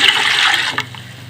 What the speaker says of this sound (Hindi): अच्छा, ये 1 जग भर के मैं पानी डाल रही हूँ इसके अंदर।